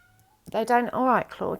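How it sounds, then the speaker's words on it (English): A house cat meows several times in a row, close and fairly loud, with a person speaking softly around the calls. "Sorry, that's my cat."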